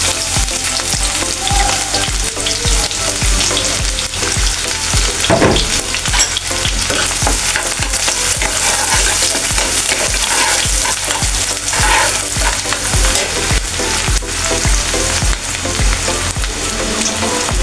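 Bay leaves and green chili paste fry in hot mustard oil with a loud, constant close sizzle and crackle, broken by occasional stirring scrapes, lasting without pause and with no talking.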